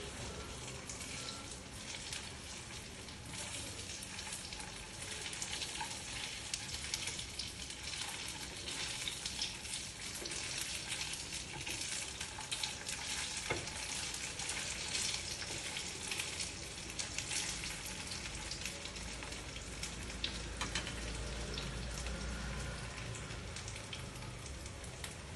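Leftover rice tikki cutlets fry in a pan with a soft, continuous sizzle and crackle that holds steady throughout, close but fairly quiet, with no talking.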